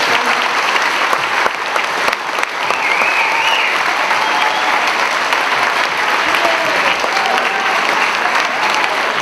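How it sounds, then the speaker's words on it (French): Students in a school assembly applaud together, a loud, dense, steady burst of clapping sustained throughout without pause. "une main d'applaudissement pour vous autres"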